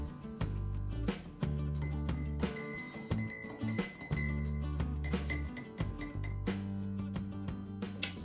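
Cups and dishes clink while tea is made aboard a canal narrowboat, with a series of light glassy and ceramic knocks at close range over a low background hum.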